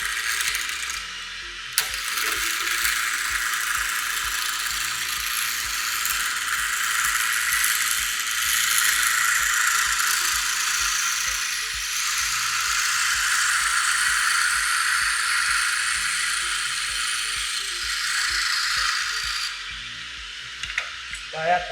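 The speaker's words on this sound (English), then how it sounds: "Now machine has started. Round nose tool. First we use round nose tool" A lathe turns a workpiece under a round nose cutting tool, a steady broadband hiss and grind running continuously for most of the stretch with faint ratcheting mechanical clicks, starting and stopping abruptly near each end.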